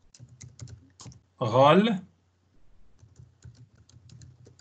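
Light clicks of typing on a computer keyboard during a Windows Server command-line session, soft and scattered before and after a short spoken word from a man.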